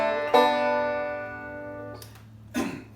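Banjo picking the pickup lick of a tune as pinches in C, with two or three bright plucked notes ringing out close and clear, fading between attacks.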